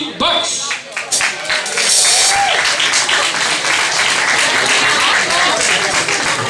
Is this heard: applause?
yes